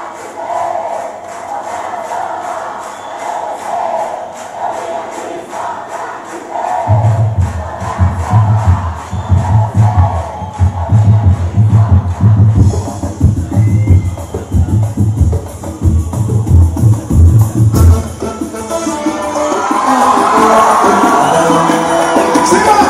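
Audience at a party music show with a dance troupe, crowd cheers and whoops over loud pulsing music, growing into a big roar of applause toward the end.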